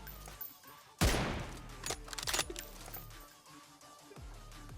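Gunfire from the M24 rifle in the PUBG Mobile video game, inside a warehouse: a loud sharp shot followed by a burst of echoing game effects and clatter, with no talk.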